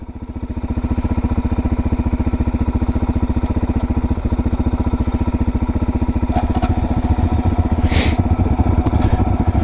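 A motorcycle engine idling close by at the Wynoochee Dam, a loud, steady, rapid thumping putter that holds evenly throughout, with a couple of faint clicks near the end.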